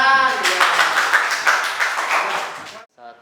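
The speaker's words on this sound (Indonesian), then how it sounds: "Tepuk tangan." A classroom of students clapping together for a short burst of applause, loud and close, with a voice heard over the start before the clapping stops abruptly.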